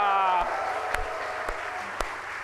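At a Korean Christmas celebration service, a sung or spoken tone fades out and gives way to a congregation's applause, with a few sharp, distinct claps standing out over a softer spread of clapping.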